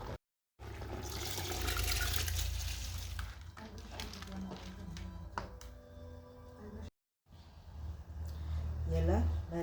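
Soaked rice and its water are tipped into a pot of cooked meat, giving a sloshing, pouring rush with splashy bursts, close by, broken by a brief cut and followed by more pouring and clatter.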